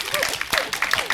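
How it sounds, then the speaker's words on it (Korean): Audience applause from the seats at a film screening talk with a poet, a brief dense wash of clapping with a voice speaking over it. "관객석의 그분께 박수를 한번 부탁드리겠습니다"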